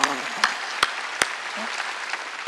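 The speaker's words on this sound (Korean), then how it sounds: "박수 치라니까" Congregation applauding during a Sunday church worship service, a steady wash of clapping with a few sharper, louder claps standing out near the start.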